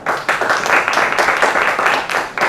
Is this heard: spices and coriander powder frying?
no